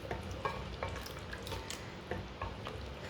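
Meat frying in a pot with garam masala while a utensil stirs it, giving a steady sizzle broken by repeated scraping strokes against the pan, with no talking.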